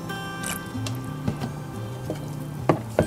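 Water goes into a pot of Haitian red bean puree, giving soft wet squishing and dripping sounds, a few brief splashy bursts near the end, close and quiet over a faint background hum.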